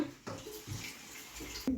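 Water poured into a Dutch pot holding vinegar and baking soda, a close, splashing gush that runs steadily for over a second between brief pauses, with no talk over it.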